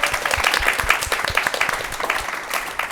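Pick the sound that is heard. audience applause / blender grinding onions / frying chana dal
audience applause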